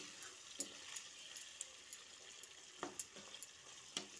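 Tomato being stirred into chicken curry in a pan, a quiet soft sizzle with a dozen or so light spatula taps and scrapes coming at an uneven pace.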